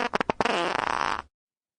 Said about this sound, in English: Peter squeezed out a honk that sounded more goosey than sheepy.